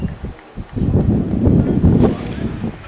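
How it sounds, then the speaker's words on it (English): Gusty wind buffeting the microphone at a baseball game, a low rumbling roar that swells and fades, with faint voices underneath. "Very windy here, as you can tell."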